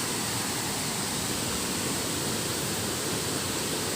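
The Kedung Pedut waterfall in Kulon Progo gives a steady, dense roar of falling water that holds unbroken for four seconds with no voices.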